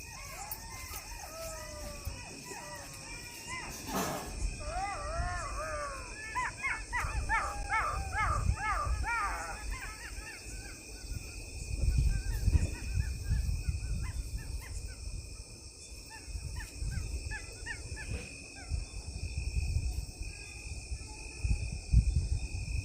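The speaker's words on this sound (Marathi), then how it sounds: "किती कोल्हे ओरडत होते अगदी थोड्याशा अंतरावर कोल्हे होते तीन चार कोल्ह्यांचा तो आवाज होता" Jackals howling at night close to a house, three or four animals calling at a short distance, with dog-like yips and wavering howls in brief bursts over a steady background of crickets and insects, faint and somewhat distant.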